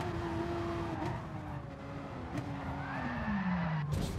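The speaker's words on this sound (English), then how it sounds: "And then he just crashes straight into me" A race car in GT Sport on the Nordschleife hums along, engine pitch gliding down, then a sharp crunching impact near the end as another car crashes into it, with skid noise around the collision.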